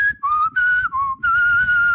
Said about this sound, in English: Darla decides to whistle the tune back at you.